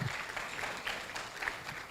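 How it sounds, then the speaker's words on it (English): An audience at a Kenyan media awards ceremony claps continuously, a faint, steady patter of applause heard from a distance. "So you're going to clap continuously until she feels comfortable."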